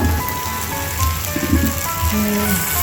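Potatoes frying in oil in a covered pan give a steady, close crackling sizzle with fine popping throughout, and no one speaks.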